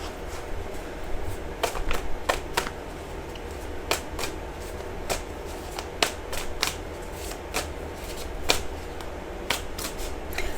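Tarot cards being shuffled, a steady run of crisp riffling snaps and flutters repeating alone for about ten seconds, fairly close.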